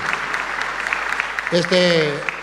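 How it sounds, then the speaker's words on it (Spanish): Audience applause breaks out during a live religious talk, steady clapping under a spoken voice, followed by a brief tonal sound toward the end. "un aplauso a la hermana por haber compartido con nosotros"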